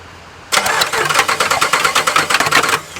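A RAM HEMI engine cranks over on the starter after a moment of quiet, giving a steady, rapid pulsing chug that runs for over two seconds and then cuts off, loud and close with no voices.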